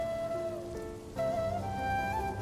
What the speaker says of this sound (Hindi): बारिश की हल्की बूंदें खिड़की के शीशे पर टकरा रही थीं।